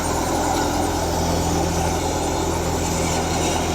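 A tractor engine runs while hauling a Batala-brand thresher, a steady, close, unbroken diesel rumble with no talking.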